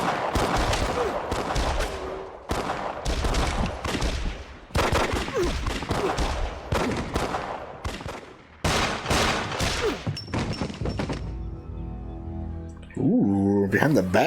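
Gunfire in a Justified episode rings out in repeated loud bursts of rapid shots, separated by short pauses, then gives way to quieter scene sound and a voice near the end.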